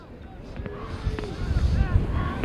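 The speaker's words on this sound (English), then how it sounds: "Cold, windy day here." Gusty wind on a cold day at an outdoor high school football game buffets the microphone with low rumbling noise, growing stronger toward the end, while faint voices and distant activity sit underneath.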